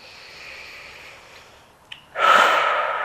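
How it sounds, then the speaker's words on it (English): Deep breathing during a ballet-style workout: a soft, drawn-out inhale, a brief catch, then a loud, breathy exhale close to the microphone. "big breath in. And out. And in."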